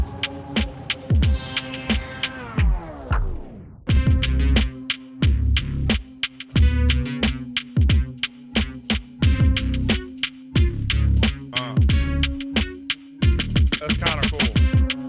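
Tape stop effect in the intro of a 90s boom-bap beat: a loud pitched loop slides downward and grinds to a halt, then the thumping drums and bass restart with a steady rhythm, with no voices.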